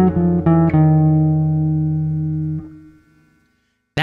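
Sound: jazz altered dominant line

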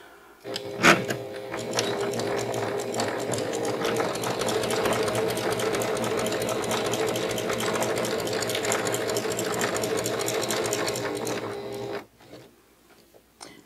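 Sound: sewing machine stitching fabric coasters

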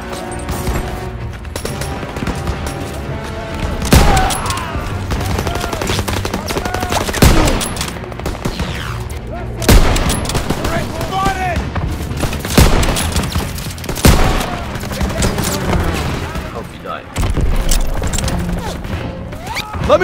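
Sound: sustained gunfire in a WW2 battle scene

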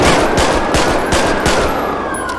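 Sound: gunshots in the video game GTA 5

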